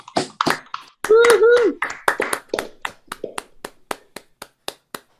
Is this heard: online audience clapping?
yes